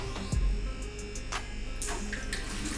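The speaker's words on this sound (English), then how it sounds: "I'll just fill this with water" Tap water running into a bucket while a Juwel Rio 180 aquarium is set up as a planted discus tank; a continuous close rush of water with a faint hum and a few knocks.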